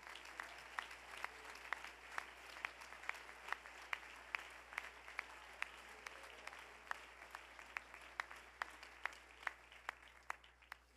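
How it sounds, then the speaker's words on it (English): A church congregation claps in a steady, even rhythm, the sharp hand claps falling about twice a second, soft and somewhat distant over a low hum. "Clap your hands unto the Lord and give him praise."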